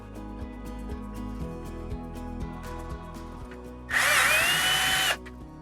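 A power drill drives a screw while an RV rooftop air conditioner, Dometic or GE, is being installed: one loud, close, high whirring burst lasting about a second, following a quieter stretch of low rhythmic humming.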